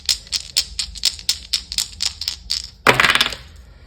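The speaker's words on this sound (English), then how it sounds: "Let's roll the Astro Dice and see what other messages you have today" Astrology dice tumble and clatter on a hard surface during a tarot reading, a quick run of about a dozen sharp clicks followed by a denser rattling burst as they settle, close and fairly loud with no talking.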